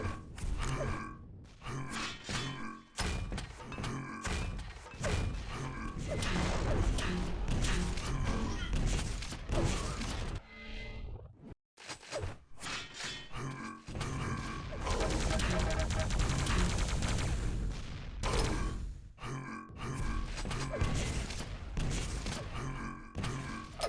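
Rocket launcher fire and explosions in a CPM match of Quake-style arena play come in loud, repeated blasts and bursts with short gaps, mixed with other game effects and a commentator talking throughout.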